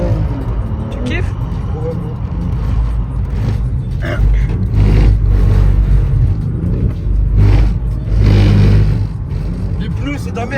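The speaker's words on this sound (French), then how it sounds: "Tout ce qu'on entend, les brrr, brrr, brrr, c'est les pneus" A car on a race track during a circuit day rumbles with a deep, pulsing tyre judder as the tyres slip and grip, loud and close, while people talk over it.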